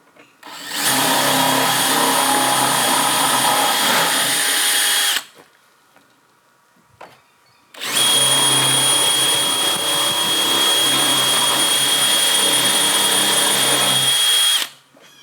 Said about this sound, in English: So we're going to drill that all the way through.